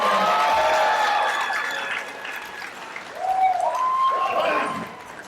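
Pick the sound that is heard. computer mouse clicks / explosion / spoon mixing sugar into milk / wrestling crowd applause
wrestling crowd applause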